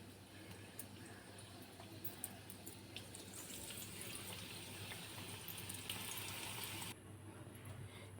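Pieces of bread bajji frying in well-heated oil give a steady, soft sizzling hiss that holds at an even level, then drops away sharply near the end.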